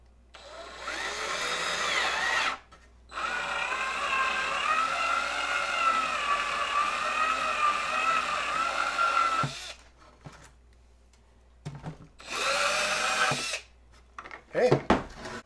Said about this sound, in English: So let's go ahead and drill hole number 2.